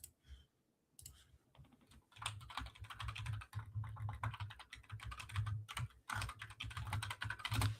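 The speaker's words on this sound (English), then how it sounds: "let me type this on my thing right now" Someone types fast on a computer keyboard in a steady patter of close, light key clicks, after a short quiet start.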